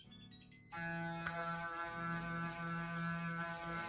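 An electric facial cleansing brush with an acne head switched on after a few brief beeps, settling into a steady close electric buzzing hum.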